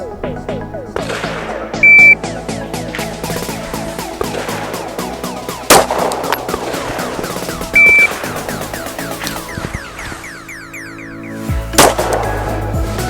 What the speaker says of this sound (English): from the holster, up on target, one shot